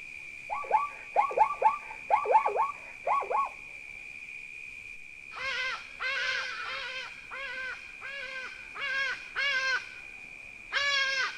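Hadeda ibis calling over a valley, a run of loud, harsh, nasal cries in quick bursts near the start, then after a pause further rhythmic honking calls in groups, close and clear above a steady high hum.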